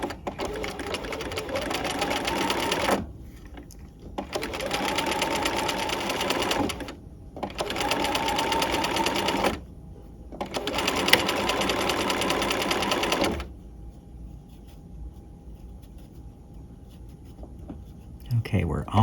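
A sewing machine stitching a narrow rolled hem at a short stitch length, running in four bursts of steady, rapid mechanical whirring separated by short pauses, then quieting to faint handling sounds.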